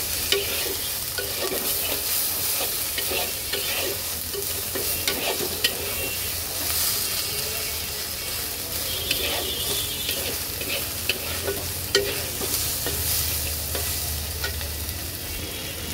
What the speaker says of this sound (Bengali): এইবার এটাকে একটু সুন্দর করে হালকা ভেজে নেব।